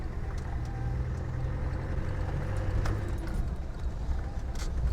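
1997 Land Rover Defender 110 300Tdi diesel rolling slowly through a parking lot over potholes, steady engine rumble from inside the cab with faint knocks and rattles from the suspension.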